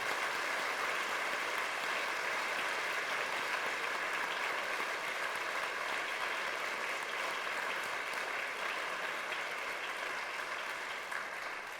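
Sustained audience applause at a PalFest literary event on Palestine and Kashmir, dense and steady throughout at a moderate, even level with no voices over it.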